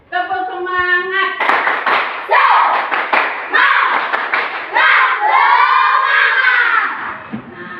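Schoolchildren in an Indonesian classroom doing a rhythmic spirit clap led by a teacher, sharp patterned hand claps alternating with loud chanted group shouts, close and energetic throughout.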